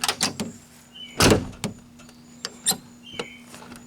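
A door on a 1987-1997 Ford F-series pickup rattles from a cracked striker bushing, giving several short, sharp knocks at irregular intervals, close and fairly loud against a quiet background.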